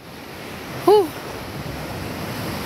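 Steady wash of ocean surf and wind at Twin Cave, Dibutunan, with one brief sharp cry near the start cutting through the constant roar.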